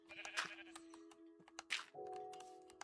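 Sheep in a Victorian town-building video game bleat several times in short, nasal calls over a steady game tone, one bleat after another with brief gaps.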